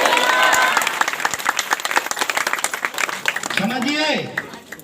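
Congregation at a prayer gathering claps, strong at first then thinning into scattered individual claps, with voices calling out over it near the end.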